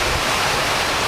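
An artificial waterfall fed by a 3000-watt pump, a loud, constant broadband rush of falling water heard close, with no voices.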